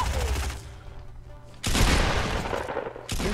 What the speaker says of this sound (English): She shot through my wall!